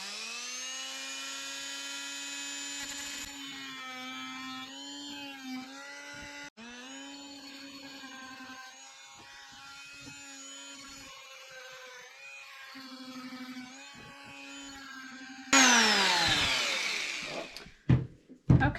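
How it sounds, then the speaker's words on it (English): Oscillating multi-tool fitted with a metal blade cutting through nails in an old wooden picture frame, a close, steady high buzzing whine that dips and bites in bursts, ending in a harsher louder cut. "So I'm going to go ahead and use the multi-tool. I installed a metal blade,"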